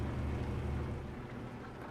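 Steady rain patters heavily with a low rumble beneath it, heard from inside a truck cab in Euro Truck Simulator 2, constant and close with no voices.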